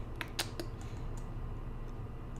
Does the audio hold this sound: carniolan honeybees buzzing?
no